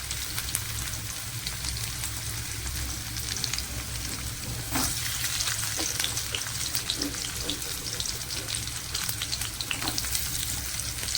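Chopped garlic sizzles in hot oil in a pan, a steady dense crackle with occasional louder pops and a brief stir, close and continuous throughout.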